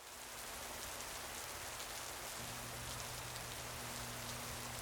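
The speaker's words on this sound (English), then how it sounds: "It is so rainy today" Heavy rain pours steadily outside during a thunderstorm in Taipei, a dense, even hiss that holds at a constant level throughout, with a faint low hum beneath and no voices.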